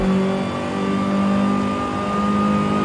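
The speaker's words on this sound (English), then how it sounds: "this is what a stock supercharged MR2 sounds like. You know, you can hear a bit of that whine, but it's so quiet." Stock supercharged Toyota MR2 in Forza Horizon 5, a steady engine drone with a faint supercharger whine riding on top, continuous and moderately loud with no talk.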